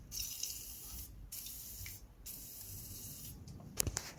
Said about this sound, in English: before I undo these strut mount nuts, I'm gonna apply plenty of WD-40 on them